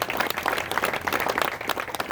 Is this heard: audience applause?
yes